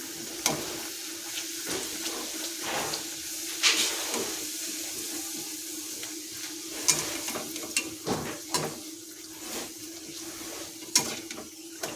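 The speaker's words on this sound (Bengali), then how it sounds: "এবার লুচিটা দিয়ে দেবো।" Luchi fry in hot oil in a home kitchen, a steady crackling sizzle with occasional stirring clinks and bubbling bursts, fairly quiet and without talk.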